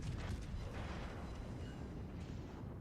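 Secondary cannons fire in the naval battle game World of Warships Legends on Xbox One, heard as a dense, continuous rumble of distant booms and bursts with no clear gaps.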